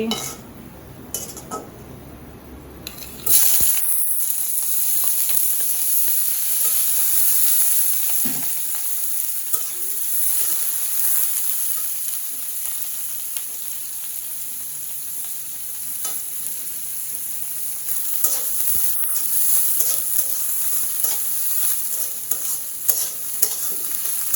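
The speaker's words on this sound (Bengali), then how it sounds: "এই যে দেখেন আমার পেঁয়াজ ভাজা হয়েছে লাল লাল করে ভেজে নিলাম" Chopped onions sizzle loudly and steadily in a hot pan as they fry until reddish-brown, with occasional scrapes and clinks of a spoon stirring them.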